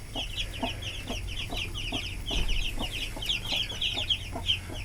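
An old hen clucks in short, steady bursts beside her newly hatched chicks, a late September brood, while their thin high peeping chatters almost constantly over the top at close range.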